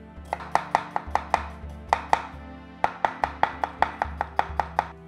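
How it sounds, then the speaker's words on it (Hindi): Knife finely chopping onion on a board for palak paneer, a quick run of crisp, evenly spaced chops up close, with a brief pause midway before the rhythm picks up again. "सबसे पहले प्याज चॉप कर लेता हूँ, बारीक"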